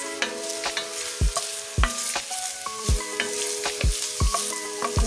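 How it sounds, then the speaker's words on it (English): Onion sautéing in olive oil in a pot for lasagna soup gives a steady close sizzle, punctuated by repeated sharp knocks of a spoon stirring against the pan, with no talk. "Now I'm going to add in my onion, and I'm going to saute that for 2 minutes."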